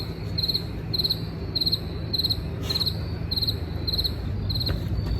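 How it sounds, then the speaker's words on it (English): Crickets chirping outdoors at night, a steady train of bright pulsed trills repeating about once per second over a soft constant hiss of background noise. "Crickets, los bichos."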